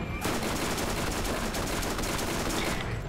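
Sustained rapid-fire shooting in the video game Borderlands, a loud continuous hose of shots with no pauses, close and dense throughout.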